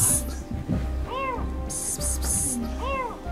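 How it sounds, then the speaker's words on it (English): A kitten trapped some 40 feet down a water well gives thin, arching meows, two or three spaced cries that sound faint and distant, with people's voices and low rumbling around them. "these meows today are very weak."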